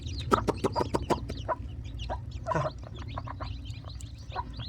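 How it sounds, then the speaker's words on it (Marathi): A hen clucks in quick bursts while chicks peep in thin high chirps nearby, busy and close. "कोंबडी खूप सुंदर आहे आणि जास्त ॲक्टिव्ह आहे पिलांना बघा खायला शिकवत आहे ती"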